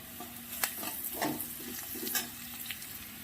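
Garlic fries in a pan with turmeric and salt for a duck egg curry, giving a steady close sizzle broken by several sharp spatula scrapes and taps, with no one talking.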